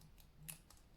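Scissors make a single quick snip, cutting at an angle while trimming a small festive craft pyramid, faint and close in a quiet room.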